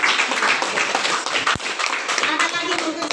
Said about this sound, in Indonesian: kita tepuk tangan untuk Rain